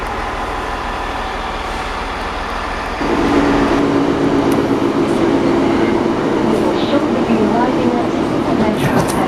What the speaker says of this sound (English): the train arrived more or less straight away